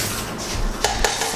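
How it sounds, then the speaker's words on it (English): A potato masher working homemade dog food in a pot, giving soft squelchy mashing with a few sharp metallic clinks against the pot, close and loud, without talk. "I'm just mashing this up. Just use a potato masher."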